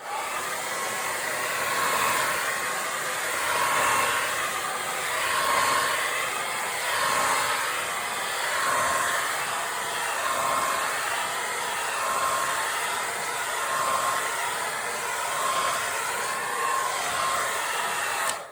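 A hair dryer blows steadily on wet paint with a constant loud whoosh and whine. The airflow swells and dips gently as it is moved around, with no talking.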